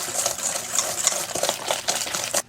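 A whisk beats one large room-temperature egg into brownie batter for raspberry cheesecake brownies, giving a steady, close scraping and swishing with repeated quick strokes, heard alone.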